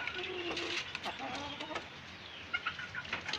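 A rooster in a backyard chicken coop shared with two hens gives soft clucks and short throaty calls, fairly faint and intermittent against quiet background noise, with no one talking.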